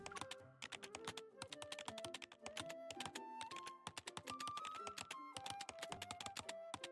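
Rapid, nonstop typing on a computer keyboard in a video game's server room scene: dense, even key clicks over a tonal melodic backing, close and steady throughout.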